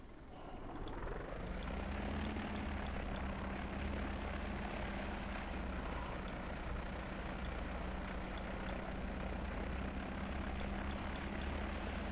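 Airplane engine drones steadily as a plane is flown around St Maarten, a loud continuous propeller hum with a low tonal whine and occasional faint clicks, with no talking.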